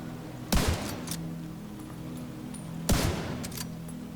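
Sniper rifle gunshots in The Division 2 video game, two loud booming shots about two seconds apart, each with a short rolling tail, over a steady low background hum.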